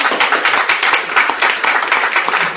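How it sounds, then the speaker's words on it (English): Audience applause at a book talk on Appalachia and Eastern Kentucky, a dense steady clapping from a crowd that stays loud and close for the full few seconds with no voices over it. "please join me in a round of applause"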